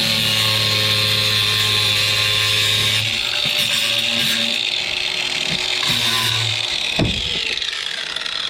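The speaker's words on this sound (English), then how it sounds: "that's the Craftsman 20-volt angle grinder" A Craftsman 20-volt cordless angle grinder cuts through nails sticking out of wood, giving a steady high whine with a lower grinding tone that eases off near the end.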